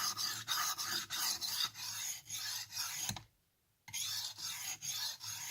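Blade bevel rubbing back and forth on a sharpening stone, a close, steady rasping scrape in regular strokes that stops for a brief half-second gap before resuming.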